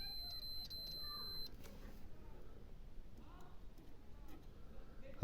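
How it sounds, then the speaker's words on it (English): A continuity tester checking a rear fog light circuit lets out a few quick, faint high beeps early on, followed by a low background hum. "you can hear that little machine over there now beeping"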